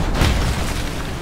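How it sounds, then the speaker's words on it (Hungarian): A single deep boom with a brief rumbling tail from a rocket being fired in the video game Mad Max, standing alone. "Ugye ezek ilyen rakétákat lövöldöznek."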